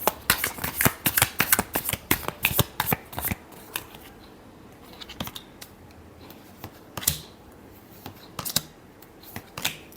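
Tarot cards being shuffled by hand: a rapid run of crisp, close flicking and slapping card sounds, then slower, sparser taps and riffles toward the end.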